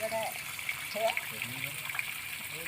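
Monsoon-season water flows steadily outdoors, a continuous rushing wash heard at moderate distance, with a faint voice speaking over it.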